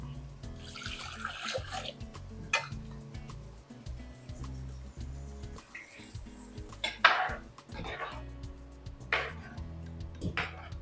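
Water splashes into a metal pot of okra curry amid clanking of pots and utensils, with intermittent gurgling bursts and scraping sounds nearby, no talking.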